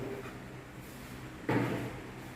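A bedroom door with a dragon pattern is opened or closed, giving a single soft thump with a brief rattle midway through, against faint room noise.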